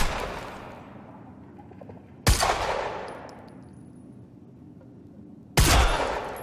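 Two loud gunshot blasts several seconds apart ring out in the video game Quantum Break, each with a long decaying echo tail, over a quiet background.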